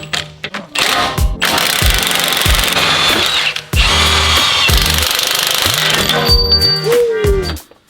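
While lowering springs go onto a BMW 340i, an impact tool takes out a bolt in loud, close, hammering bursts with a brief pause, ending as it spins down.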